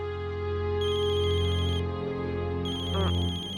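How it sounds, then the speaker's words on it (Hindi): A phone ringtone plays loud and close in a Hindi TV drama scene, a repeating electronic melody ringing in bursts with a short gap between them, with no talk over it. "भाई शेठ का फोन है"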